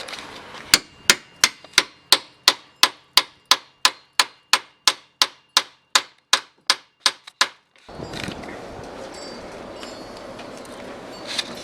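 On a 2002-07 Buick Rendezvous or Pontiac Aztek, bolts are hammered back into a strut mount with about twenty sharp, ringing metallic blows in a fast, even rhythm. Afterward comes a low rustling of handling noise.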